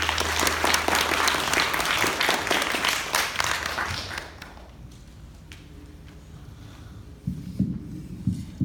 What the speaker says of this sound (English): I would appreciate if you guys gave them another round of applause